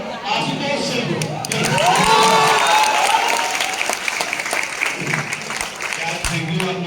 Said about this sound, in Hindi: थैंक यू आप लोगों को ताली बजाने के लिए